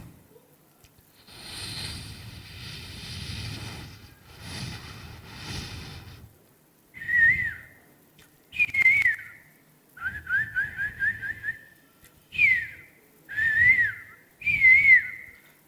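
A beatboxer imitates a koel's call with about six rising, whistle-like notes repeated in a steady rhythm, after a stretch of softer breathy noise.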